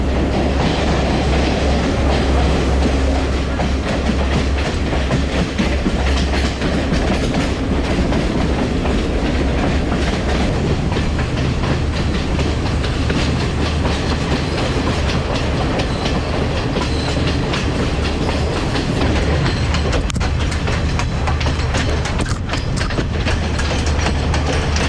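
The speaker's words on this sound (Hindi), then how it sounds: "यहाँ पे हमारी एक्सप्रेस ट्रेन देनुवारा मैनिके बगैर रुके गुज़र गई।" The Denuwara Menike express train runs through a station without stopping, a loud continuous rumble with rhythmic clickety-clack of wheels over rail joints, sustained and close for the whole stretch with no talk.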